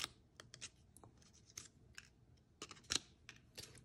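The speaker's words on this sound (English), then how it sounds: "we can trim again some of these corners out to reduce the bulk when we fold up our box" Scissors trim the corners of cardstock for a small treat box, a run of faint, crisp snips and clicks spaced irregularly, close and quiet with no talk.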